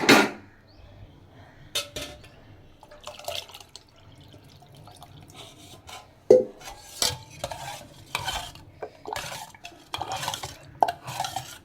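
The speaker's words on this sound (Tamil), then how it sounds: "இப்போது இதை பாருங்கள், சில்லுன்னு ஆறின பாலை அதில் ஊற்ற போகிறேன்" Cooled milk being poured into cooked rumali semiya for payasam: soft splashing and dripping, then a series of spoon stirs and clinks against the pot, close, with no talking.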